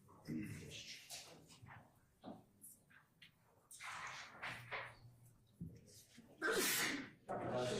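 A sneeze in a courtroom during a trial session, one sharp burst standing out from murmuring voices and room noise nearby.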